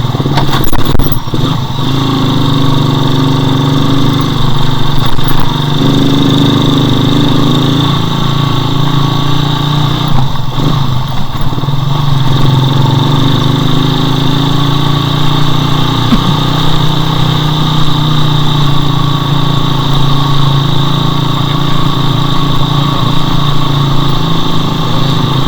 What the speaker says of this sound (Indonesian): Gua kan motor gua kemarin habis diganti tuh karburatornya ya pakai PE.